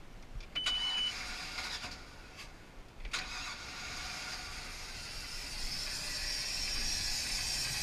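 Engine of a 2005 Bayliner 245 SB boat cranking and catching with the hatch open, a few starter clicks giving way to a steady low idle rumble that holds to the end.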